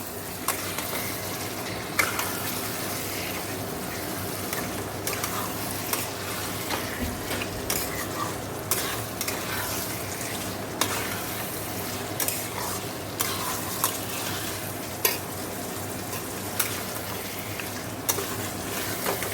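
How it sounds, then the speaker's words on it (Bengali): Meat stir-frying with spice masala in a pan, a continuous close sizzle broken by regular scraping and clinking stirs throughout, no voices. "মশলাটা ভালো করে কষে মাংসটা দিয়ে দিয়েছি ভালো করে কষে নেবো"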